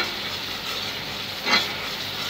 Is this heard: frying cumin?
yes